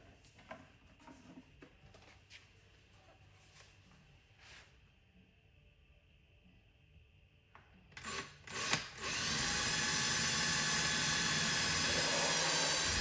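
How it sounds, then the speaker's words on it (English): A power drill bores a hole into a wooden tail piece, starting with quiet handling and a few brief bumps before a loud, steady whine of the bit cutting through wood. "it might be better to have the hole drilled in the bottom first"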